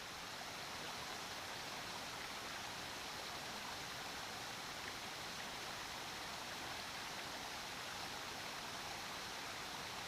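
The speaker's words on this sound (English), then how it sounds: "beautiful waterfall, little waterfall," A small waterfall pours in a steady, even hiss of splashing water, close and continuous for the full stretch, with no talking.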